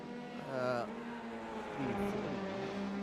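Open-wheel Hydro race cars in an F3 sim racing game at Brands Hatch, engine notes rising and shifting in pitch as cars pass, one whining past early, heard under continuous commentary.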